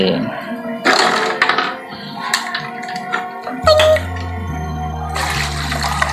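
Catfish splash and jump in water in a newly filled backyard pond, producing a few brief, close splashes. People talk excitedly throughout.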